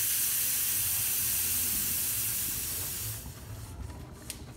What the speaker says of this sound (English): But you can see we have nice strong steam